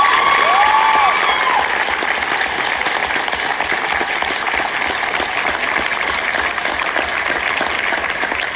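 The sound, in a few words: audience clapping hard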